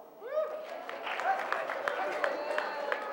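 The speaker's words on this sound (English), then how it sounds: "Big round of applause." A school audience breaks into applause, a dense patter of clapping hands close by that runs steadily for a few seconds with voices calling out over it.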